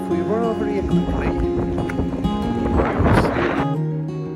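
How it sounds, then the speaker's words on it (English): Strong seaside wind buffets the microphone at the harbour in Seahouses, a Northumberland coastal town, a heavy rumbling roar that nearly drowns out a person talking. "it was far too windy to hear anything that I was saying"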